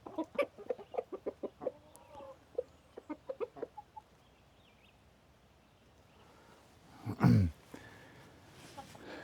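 Backyard chickens in a homestead run give a quick series of close clucks, then a quieter stretch, followed by one louder squawk near the end.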